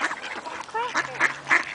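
A few brief, nasal quacks from five ducks being fed, in quick succession, close by and fairly clear against a quiet background.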